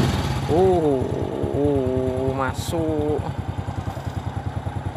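A motorcycle starter cranks after battery servicing and the engine catches, settling into a steady close idle putter, with a person speaking over the first seconds.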